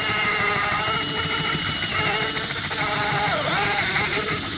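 An electric drill bores a hole during a water heater relocation, whining steadily and loudly at a constant speed with a gritty buzzing edge throughout.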